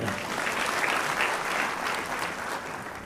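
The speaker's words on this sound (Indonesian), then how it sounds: "tepuk tangan untuk Surabaya" A crowd at a public talk applauds for the city of Surabaya with a continuous wash of many hands clapping, steady and moderately distant, with no clear talk over it.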